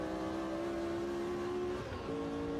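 1960s Formula 1 car engine in the video game Automobilista 2: a steady, fairly faint high whine held for about two seconds, then a quick dip and shift in pitch as the throttle is lifted and reapplied, no talk.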